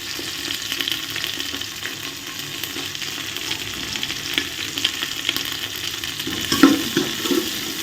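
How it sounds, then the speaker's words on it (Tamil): Shallots, green chilies and curry leaves sauté in a pan for a Tamil dal rice dish, giving a continuous close sizzle with occasional scraping stir strokes and a brief clatter near the end; no one speaks. "சின்ன வெங்காயம் 100 கிராம், பச்சை மிளகாய் 3, கருவேப்பிலை போட்டு நல்லா வதக்குங்க"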